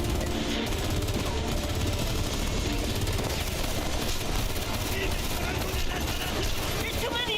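Dense, continuous gunfire and mechanical clatter from a shooter video game, with grenades going off, forming a loud, unbroken wall of battle noise for the whole stretch under voices.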